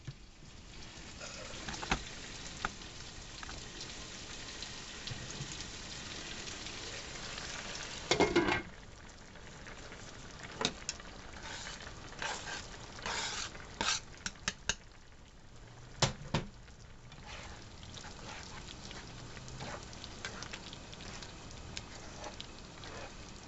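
Mexican rice with chopped jalapeño simmers in a pan, giving a soft, steady sizzle and bubbling with occasional clinks of a utensil or lid against the cookware.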